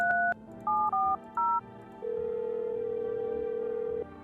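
Touch-tone keypad beeps from a video game phone, a quick burst of separate dual-tone presses dialing a number, followed by a steady ringback tone lasting about two seconds, clear and close with no talking.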